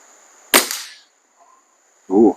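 A Webley Longbow air rifle fires with a sharp crack and a brief rattling tail, then after a pause a short, dense mechanical clack follows as it is cocked, close and loud in a quiet setting.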